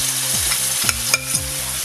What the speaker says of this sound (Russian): Это соус. Мы его кладем на сковороду.